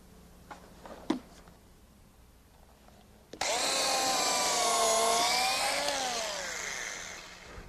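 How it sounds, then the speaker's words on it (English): A power drill bores pilot holes through wooden 2x4 deck rails, whining loudly and steadily for several seconds after a few faint knocks, its pitch sagging slightly as the bit works through the wood. "Drilling through the top rail marks for the pilot holes in the bottom rail."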